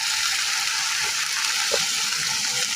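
Spices, pastes and chili powder fry in hot oil with a constant hissing sizzle. The sound holds steady and close, with a faint clink of stirring partway through.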